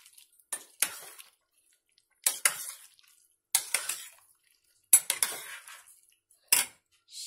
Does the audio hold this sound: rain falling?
no